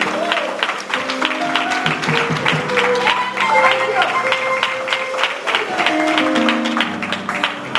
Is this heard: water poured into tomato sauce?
no